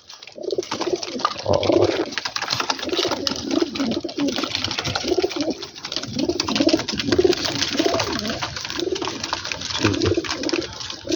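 Several pigeons coo in steady, overlapping low rounds from a nearby loft, moderately loud throughout, with a single brief spoken word.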